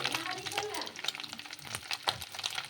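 Small chuno fish frying in a pan, a soft crackling sizzle with scraping and stirring clicks, fairly quiet and close.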